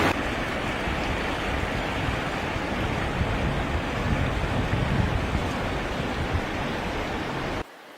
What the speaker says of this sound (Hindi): भाई काफ़ी गहरा पानी है और बहाव भी बहुत तेज़ है पानी का।